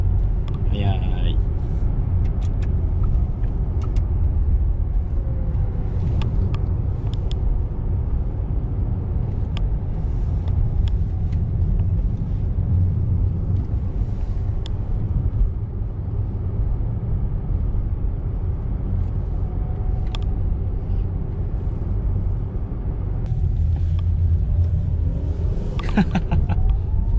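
Porsche Taycan electric car driving in Monaco, a steady low road rumble and muted drivetrain hum rising gently, with people talking inside the cabin throughout.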